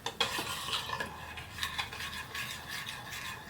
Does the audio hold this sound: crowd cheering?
no